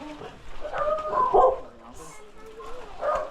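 A dog barking a few times nearby at a house, short yapping bursts mixed in with people talking over it.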